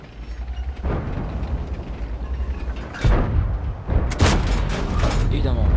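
A T26E4 tank cannon firing in World of Tanks, with a few loud, sharp blasts standing out over steady engine and battle noise while someone talks throughout.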